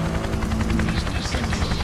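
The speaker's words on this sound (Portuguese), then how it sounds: "é o helicóptero da Cyber Force" A Cyber Force helicopter in the video game Remember Me thrums with loud, steady rotor noise, close and continuous, with a busy layer of game sound effects underneath.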